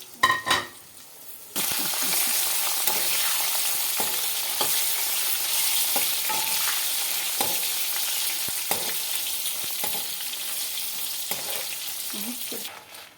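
Dried red chillies fry in a pan with a loud, continuous sizzle and frequent scraping clicks from stirring. A few faint clinks come just before the frying surges in.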